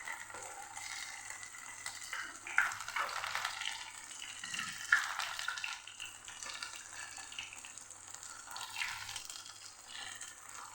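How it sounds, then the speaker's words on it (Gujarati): Poha and potato snack pieces shallow-frying in oil over a medium flame, producing a steady, fairly quiet sizzle with a couple of louder bubbling bursts and no talking. "બે સાઈડથી સરસ ક્રિસ્પી થાય એવા નાસ્તાને તળી લેવાનો છે મીડિયમ આંચ ઉપર"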